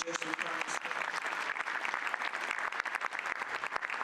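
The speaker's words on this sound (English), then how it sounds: "Can we have another round of applause for Dr. Jesse Price?" An audience at an African-American history and culture conference gives a speaker a round of applause, dense, continuous clapping from many hands at moderate level, with a faint voice briefly at the start.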